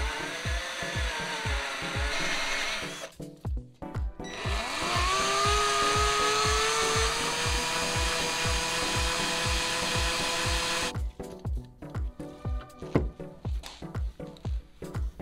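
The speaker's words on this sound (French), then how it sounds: "le carter d'huile d'origine, il a déjà les emplacements pour la version turbo. Il suffit de percer." Drill boring into the stock oil pan of a 2JZ engine for a turbo oil return: a loud, high-pitched motor whine in long bursts with pauses, over a steady rapid rhythmic knocking throughout.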